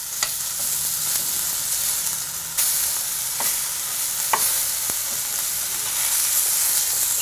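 Pollock fillets fry in a pan with a constant, close sizzle, punctuated by occasional scrapes and clicks of stirring and turning, with no talking.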